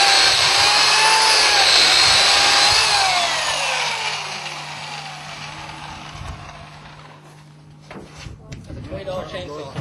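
A cheap $20 chainsaw cutting through a block outdoors, a loud high whining buzz that holds for a few seconds then trails off as the cut ends, with voices and handling noises after.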